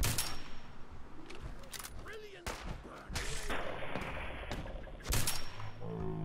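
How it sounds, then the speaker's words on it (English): Explosions and gunfire from the video game Fallout 4, including nuka grenade blasts: repeated sharp bangs and bursts that come loud and close, with heavy booms near the start and end. "That was a fucking nuka grenade."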